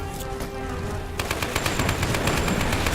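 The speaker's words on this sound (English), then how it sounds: "This is my toxic weapon." A toxic weapon fires in Lara Croft and the Temple of Osiris as rapid, evenly spaced bursts, loud and close, starting abruptly after a second of quieter game ambience and continuing to the end.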